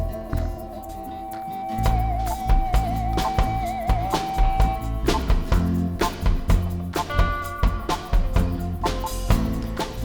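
An electric guitar is played through the Airwindows kGuitarHall2 reverb plugin, giving a rhythmic, strummed part with punchy chords and a sustained bending lead note, all washed in spacious hall-like reverb.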